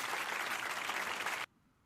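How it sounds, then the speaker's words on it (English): Burst of dense applause from a livestream audience, loud and even for about a second and a half, then cutting off abruptly into near silence. "Let's give him an applause for that."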